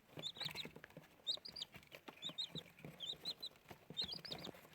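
Four chicks in a box cheep in quick bursts of high peeps, close by, with light scratching and shuffling between the calls.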